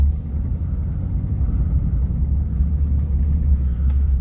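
A 1977 Rolls-Royce on its first drive, a steady low engine and road rumble filling the cabin, continuous and fairly loud for the whole stretch with no voices.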